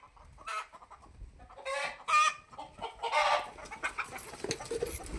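Backyard chickens cluck in several short, agitated bursts, fairly close, with a louder squawk among them and quieter rustling between calls.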